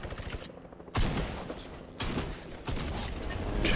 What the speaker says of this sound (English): And I will shoot you out.